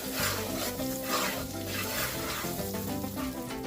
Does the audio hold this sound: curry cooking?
yes